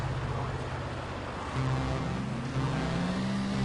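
A car engine in a German street racing video game drones steadily at a drag race start, then climbs in pitch as it accelerates hard through rising revs.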